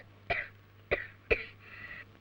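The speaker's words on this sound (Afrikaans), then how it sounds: "Hoes te veel." Three distinct, fairly quiet coughs come in quick succession, the last trailing into a longer, breathy rasp, over a faint steady hum.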